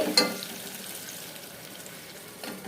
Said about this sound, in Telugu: టమాటాలు మెత్తబడేంత వరకు స్టవ్ లో ఫ్లేమ్లో పెట్టేసుకొని ఉడకనివ్వాలి